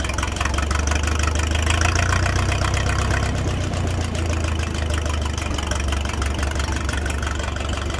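Engine of a 1956 Minneapolis-Moline 445 tractor running steadily on its carburetor, a continuous low rumble with a slight knocking texture, close and constant throughout with no talk.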